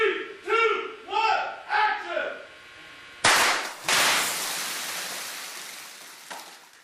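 Gunfire from a staged film gun battle shot inside a large greenhouse, with loud sharp bursts breaking out after several shouted voices and a long ringing wash trailing off, then another shot near the end.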